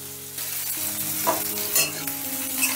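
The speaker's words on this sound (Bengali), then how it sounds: "তেলটা গরম হয়ে গেলে দিয়ে দিচ্ছি পেঁয়াজ।" Chopped onion hits hot white oil in a wok and fries with a steady, close sizzle as it is stirred, while background music plays throughout.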